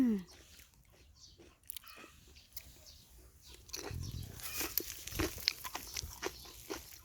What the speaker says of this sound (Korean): 그냥 먹겠습니다